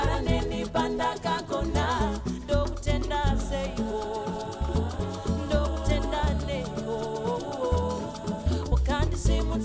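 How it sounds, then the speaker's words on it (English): Big layered backing vocals sing in a Zimbabwean 6/8 gospel-style song, with full choral harmonies over a steady rhythmic band and bass, continuous and loud. "we added here big vocals"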